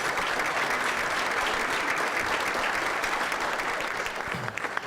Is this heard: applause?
yes